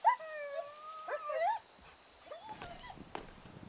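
Several dogs howl and whimper indoors at a house, rising wavering wails overlapping at first, then softer whines and yips trailing off, fairly close with no speech.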